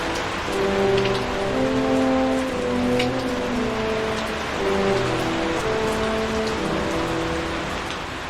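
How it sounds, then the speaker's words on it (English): Heavy rain pours steadily outside, a dense continuous downpour with no voices over it. "it's bucketing rain out there today"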